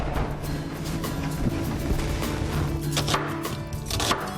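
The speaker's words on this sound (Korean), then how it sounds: "그냥 이렇게 툭툭 썰어가지고 먹는 거예요." Knife chopping seasonal fruit on a cutting board for a salad in a home kitchen, with loose repeated cuts over a steady background hum.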